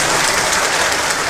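An audience applauding for a circle officer at a political gathering of the BTR government and UPPL in Assam. A dense, loud, continuous wash of clapping fills the whole short span without a break.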